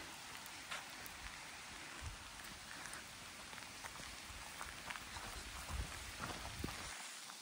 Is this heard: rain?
yes